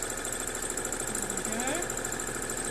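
A sewing machine runs steadily while stitching a fabric tube for a headband. It gives a continuous, fast, even mechanical rattle at close range, with a faint voice in the background.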